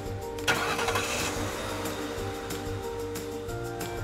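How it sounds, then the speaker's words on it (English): A car engine cranks and catches near the start, then runs at a steady, close idle with light mechanical clatter. It is a booster car being used to jump-start a vehicle with a dead battery. "Then, you're ready to start your booster car."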